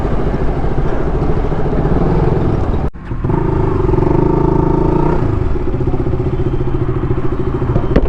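A motorbike started after sitting unused for a long time: a loud, steady close-range engine note runs throughout, breaking off sharply near three seconds before firing back up into an idle with a brief raised, revving tone.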